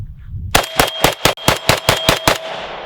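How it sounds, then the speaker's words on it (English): A Zastava M90 rifle fires a quick string of about eight loud, sharp shots at a steady rapid pace, each followed by a brief ringing tail, close to the listener, with no talking. "I will shoot few rounds."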